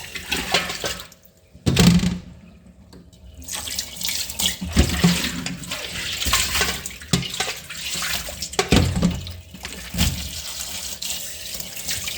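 Tap water runs into a sink as soya chunks are rinsed, with a steady splashing flow that swells and dips, broken by brief handling sounds and short pauses, up close and without talk.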